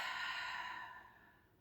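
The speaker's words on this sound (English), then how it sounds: "So here, we're going to take some big deep breaths." A single long, deep exhale during a mindful breathing exercise, close and soft, trailing off gradually into quiet.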